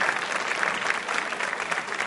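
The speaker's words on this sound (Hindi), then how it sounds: "तालियां जोरों से बजाइए इन सभी के लिए आप" Audience applause at a college quiz show held for Ganesh Chaturthi: a steady, dense wash of many hands clapping, moderately loud and continuous, with no voices over it.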